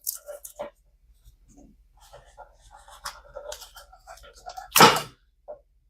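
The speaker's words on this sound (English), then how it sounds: "So let's see if this knife here will cut off the excess." A knife slices off the excess strap of a dog training collar, with faint handling rustles and scattered small scrapes building to one sharp, brief cutting burst near the end, close and fairly loud.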